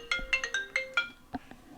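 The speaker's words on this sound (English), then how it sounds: "apologize for the ringing phone" A phone ringtone plays a quick melodic sequence of bright electronic tones, a few notes in a rising-and-falling pattern, moderately close with no talking over it.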